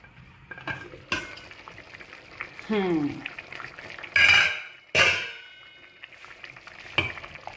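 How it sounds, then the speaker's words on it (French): A metal cooking pot being covered with its lid during a home recipe of mushrooms, caterpillars and smoked fish, with a few sharp clanks and scrapes of metal, fairly close, among quieter kitchen clatter. "Nous allons couvrir notre marmite"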